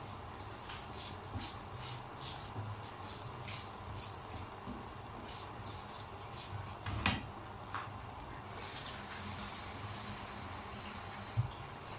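Hot water pours steadily into a pot of lentils with tomatoes, a faint, continuous stream with a few soft knocks and clinks, quiet and close.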